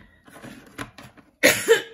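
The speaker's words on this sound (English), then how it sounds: "Come back with a little bit of a cough." Near the end, a single sharp cough stands out, loud and close, after a few soft, faint sounds.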